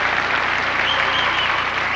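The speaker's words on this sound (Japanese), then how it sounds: "場内から大きな拍手です" Large arena audience applauding steadily at a 1984 junior world figure skating exhibition in Tokyo, a dense, sustained roar of clapping throughout with a commentator faintly under it.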